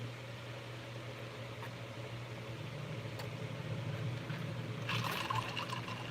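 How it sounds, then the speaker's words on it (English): Ice water poured out on a hot day by the Erie Canal, a steady liquid rush over constant low background hum, swelling a little louder toward the end. "thank you, Frank, for the ice water."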